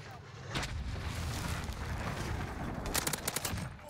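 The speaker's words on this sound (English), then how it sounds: "I hear gunshots from somewhere." Gunfire in Call of Duty Modern Warfare multiplayer: distant rumbling shots and a couple of sharp bursts, then a quick run of automatic fire near the end, all over a dense, noisy game soundscape.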